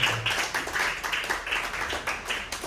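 A church congregation at a Sunday service claps hands in unison, rhythmic, evenly spaced claps of moderate loudness with a voice faintly underneath.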